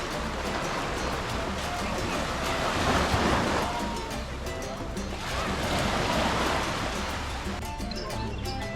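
Surf washing onto a clean beach on a small Fiji island with clear water, swelling and receding in two broad surges over steady ocean wash and light wind.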